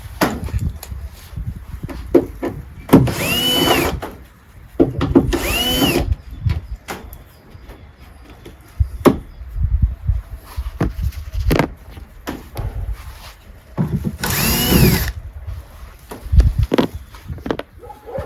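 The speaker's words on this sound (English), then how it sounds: "So now I'm just gonna unscrew those." A power drill backs out screws holding a vehicle stoplight during a rust repair job, giving three short whirring bursts spaced apart, close and fairly loud, with clunks and handling noises between them.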